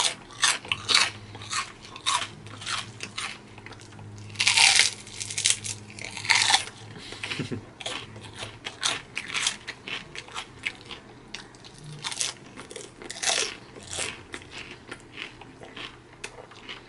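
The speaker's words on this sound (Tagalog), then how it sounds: "Impressive yung pagkalutong nitong chicharon na to." Crispy chicharon being bitten and chewed up close during a mukbang meal, with loud, sharp crunches in quick irregular bursts over a faint low background hum.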